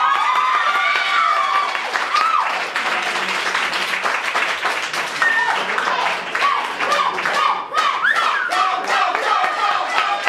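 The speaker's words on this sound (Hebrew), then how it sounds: "אפשר למחות כפיים בזה." Audience at a vegan stand-up comedy show claps and cheers continuously, a dense, steady wash of applause with scattered shouts and crowd voices throughout.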